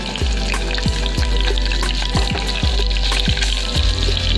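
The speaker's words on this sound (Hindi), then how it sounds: "अब हम अंडों को तेल में ड्रॉप करेंगे।" Eggs dropped into hot oil to fry, with a dense steady sizzle and crackle and a series of sharp popping spatters at a fairly regular rhythm, close and alone.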